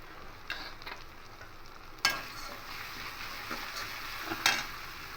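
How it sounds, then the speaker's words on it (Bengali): Ground coriander, cumin, chili and turmeric sizzle in hot oil for a gourd-and-prawn dish, a steady close frying hiss broken by stirring scrapes and a few louder bursts of sizzle. "এবার মশলাগুলো দিয়ে দেবো সব"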